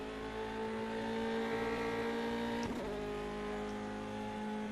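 Mercedes inline-4 engine of a Formula 3 race car in rFactor 2 revving steadily at a sustained high pitch, with a brief sharp blip partway through, close and continuous without talk.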